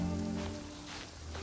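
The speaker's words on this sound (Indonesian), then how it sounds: "Kenapa setiap main Genshin ini kok kebanyakan hujan ya?" Steady rain falls in the video game Genshin Impact as a dense, even hiss with a low background hum, continuous and without distinct drops.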